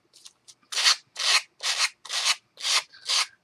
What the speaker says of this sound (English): you can grab your sanding block or your emery boards, nail file, whatever you want to use, and just scrape away the edges